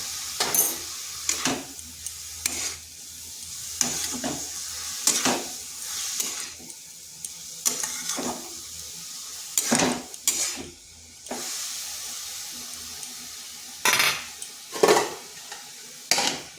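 Cauliflower being stirred with spices and salt in a pan over low heat: repeated scraping strokes of a spatula against the pan at an irregular rhythm over a soft, steady sizzle, close and fairly loud, with no talking.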